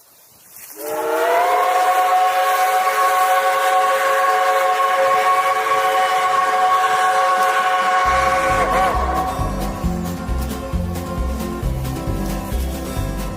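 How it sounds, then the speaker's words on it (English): A train passing through Pittsburgh sounds a long, loud, sustained whistle lasting several seconds, followed by the heavy rhythmic clatter and rumble of the cars rolling by close at hand. "watching as the trains pass through"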